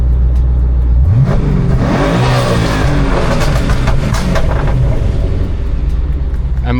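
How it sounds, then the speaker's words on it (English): A twin-turbo Ford Mustang engine revs hard on a launch control test, a loud sustained roar climbing in pitch with rising harmonics, then holding steady at high rpm close to the microphone. "Next, start the engine. Quickly press on the gas to the floor and immediately step on the clutch."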